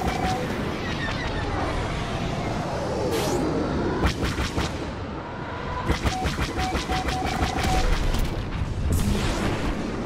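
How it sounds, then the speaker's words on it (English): A homing missile launches and explodes amid space combat in Star Wars Battlefront, with booming blasts and bursts of rapid laser fire over a constant roaring engine and battle din. "Fire the homing missile."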